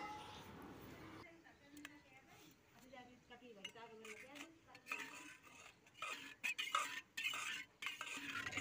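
Salt and ground chili stirred into a bowl of curd for dahi vada, a spoon scraping and clinking against the bowl in short irregular strokes, close by, with someone talking over parts of it.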